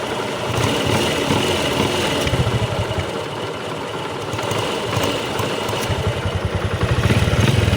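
A Honda XRM 125 motorcycle with a manual clutch idles and revs nearby after a clutch knocking fix, a steady rapid engine putter with small swells in rhythm and no talk over it.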